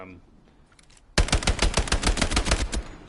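Rapid submachine-gun bursts fired from the hip in Hell Let Loose, a loud, dense string of sharp shots kicking in suddenly after a quiet lead-in and rattling on steadily to the end.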